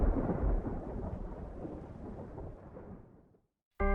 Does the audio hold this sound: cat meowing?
no